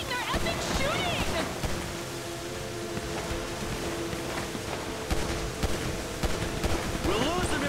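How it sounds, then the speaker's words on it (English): Enemies firing guns in the SA Mercenaries update of a video game, a busy stretch of sharp shots and bursts over engine and water noise, with excited voices talking throughout. "They're shooting! They're epic shooting!"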